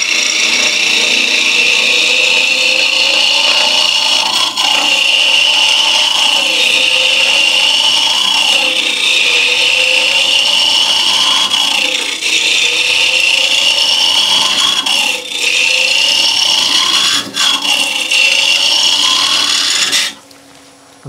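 A wood lathe turns an open vase while a gouge cuts away the wood, giving a steady, loud, close scraping hiss with a few brief dips and shifts in pitch. It cuts out abruptly near the end.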